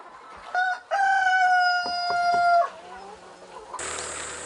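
A rooster crows loudly and close by at a free-range egg farm holding about four thousand chickens. The long harmonic crow is followed by softer clucking and a burst of hissy noise at the end.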